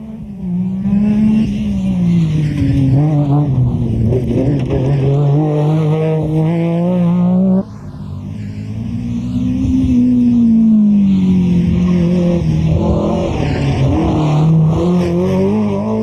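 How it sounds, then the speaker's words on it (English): A four-wheel-drive Metro rally car of about 300 horsepower screams through a 1990 international rally stage, engine revving hard out of the corners with a brief gear-change dip, loud and close throughout. "See how quick the Metro is from the bridge up."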